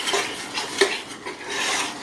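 A spoon scrapes and clinks against a pot while caramel sauce is stirred as it boils and thickens for a harvest apple cake, with continuous close scraping and a few sharper metallic taps.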